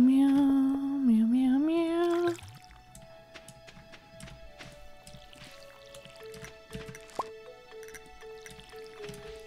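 Watering crops in the Stardew Valley farming game gives soft repeated water drips and splashes, with in-game music and a melodic tone at the start.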